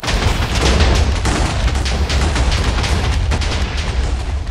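A dense barrage of booming Minecraft video game explosions, loud and continuous, with heavy low rumble and sharp bursts layered throughout, no talking.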